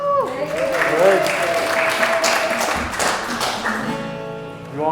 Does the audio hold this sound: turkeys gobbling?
no